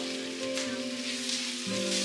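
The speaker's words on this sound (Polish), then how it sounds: "Mięso porządnie podsmażamy i odparowujemy wodę, która zebrała się w trakcie smażenia." Meat frying in a pan after onions, a steady close sizzle with a continuous hiss and a low hum running underneath, with no voices.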